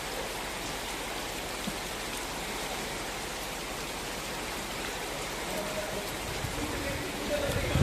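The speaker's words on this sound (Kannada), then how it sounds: "ಮತ್ತೆ ಬೆಳಗ್ಗೆ ಸಖತ್ ಮಳೆ ಸ್ಟಾರ್ಟ್ ಆಯ್ತು." Heavy morning rain pours steadily and loudly at a resort in Sakleshpur, a dense unbroken hiss of falling water that swells slightly toward the end.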